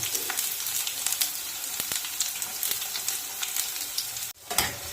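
Chopped onion sizzles in hot oil with garlic, black mustard seeds and dried chilli, a continuous bright frying hiss with a few stirring clicks and a momentary dip before resuming.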